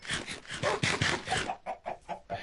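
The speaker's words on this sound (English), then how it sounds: "run free chickens, I don't even care what you do" Minecraft chickens cluck in a series of short, clear bursts in the video game, a run of fowl calls with no talking over them.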